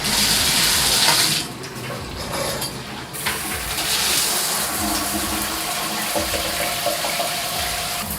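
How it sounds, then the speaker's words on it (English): Water gushes steadily from a 20-stage filtered shower head, a loud continuous splashing hiss that dips briefly and then carries on unbroken, with no voices. "So I'm going to turn on the water and show you guys what the water looks like when you guys first use it."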